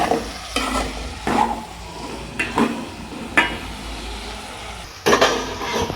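Bitter gourd pieces sizzle steadily in a frying pan while a spatula stirs them in repeated scraping strokes, several sharp clanks of metal against the pan standing out over the continuous hiss.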